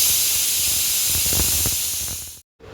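A pressure cooker with soaked lentils vents a steady, loud steam hiss that holds for about two seconds before cutting off abruptly into silence.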